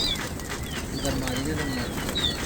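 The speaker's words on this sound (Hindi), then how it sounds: "ये जी खुल गए कबूतर।" Flock of pigeons released from a net at a pigeon-keeping event in a crowd, with a dense burst of flapping wings and faint coos amid outdoor murmur and voices nearby.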